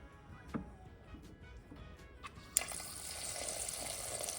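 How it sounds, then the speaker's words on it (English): Faint water runs from a tap into a pot of soaked pinto beans topped with chicken bone broth, a low steady pour that begins with a sharp knock and continues alone. "And then I'll finish filling it up with water."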